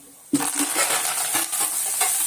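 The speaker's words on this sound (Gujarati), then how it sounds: "તે વઘારી લઈશ. લસણ નાખીશ અને ધાણા" A sudden loud sizzle as garlic and coriander hit hot oil for tempering, followed by continuous crackling frying and a few stirring scrapes.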